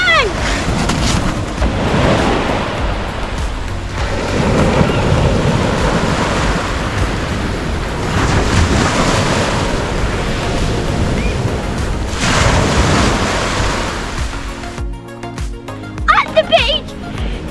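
Ocean waves at a beach with soft sand and a clear sea, a broad, continuous surf wash with swelling breakers and wind buffeting the microphone, a voice speaking over it near the end.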